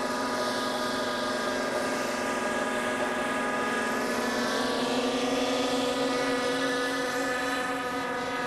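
A radio-controlled model helicopter from the mid-1980s flies continuously with a steady, droning rotor and engine whine, several harmonic tones rising slightly in pitch, heard fairly close with no talking.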